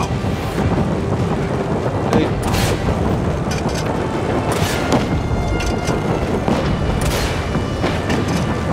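Missile explosions from the Just Cause 3 video game, a loud continuous rumbling barrage of booms and blasts over the whole stretch, dense and roaring like thunder, with no clear speech.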